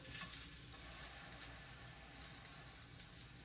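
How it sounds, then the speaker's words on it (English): Tacos sizzle and fry in a pan on a home stovetop, a steady soft crackling hiss with no talking. "I also like making my tacos on the stove"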